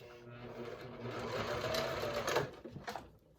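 A domestic sewing machine stitches a Harlequin vinyl pouch, a steady close rhythmic whir of the needle running for a few seconds before it slows and stops.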